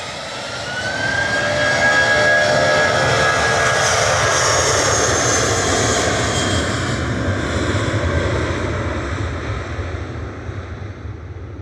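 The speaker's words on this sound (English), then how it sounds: "Ryanair heading off to Palma de Mallorca, operated by Lauda Europe, 9HLOW," A Ryanair Airbus A320 operated by Lauda Europe takes off from Manchester Airport bound for Palma de Mallorca: a loud, roaring jet rumble swells quickly, holds strong, then slowly eases as the aircraft pulls away.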